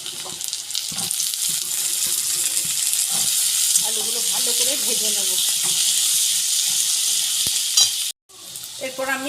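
Potatoes tossed into a kadai of fried onions in oil, a loud continuous sizzle with scraping stirs and spatula knocks, close up, a brief cut near the end.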